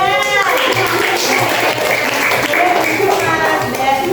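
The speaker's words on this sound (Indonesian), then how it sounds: "tepuk tangan untuk kelompok 2" A classroom group of students claps for a poster presentation, with dense steady applause throughout while a voice talks over it.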